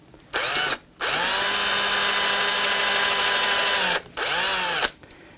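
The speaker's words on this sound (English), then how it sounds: "You don't want to drill into a truss rod." A power drill bores a shallow hole about 3 mm deep into an electric guitar neck, just off center. It whines loudly in three bursts: a short one, a long sustained run, then another brief spin.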